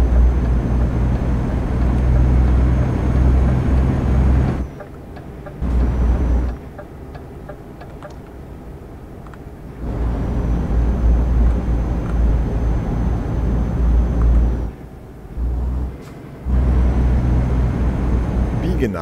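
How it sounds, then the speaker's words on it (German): A heavy truck engine in Euro Truck Simulator 2 drones steadily and loudly, cutting out in a few short gaps, while a German voice talks over it. "dieser LKW ist schon sehr laut"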